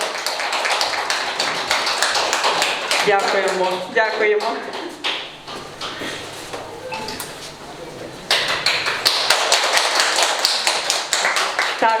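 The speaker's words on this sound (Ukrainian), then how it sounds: "Давайте запросимо оплесками. Це сім'я Деміченко." At the opening of a new space for children and youth with disabilities, an audience claps to welcome a family, with bursts of dense applause at the start and end around a stretch where people speak and offer thanks.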